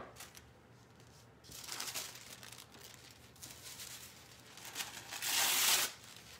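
Tissue paper is cut into random shapes with scissors, giving soft crinkling and snipping noises in short bursts, the loudest rustle near the end, quiet and close with no talking.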